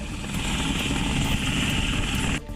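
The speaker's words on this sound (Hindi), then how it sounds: "रुद्र हेलीकॉप्टर प्रहार फॉर्मेशन में उड़ान भरते हुए दुश्मनों का दिल दहला रहे हैं" Rudra military helicopters flying in formation at a Republic Day parade, a dense loud rotor roar with rapid thudding blade beats, steady throughout before dipping at the end.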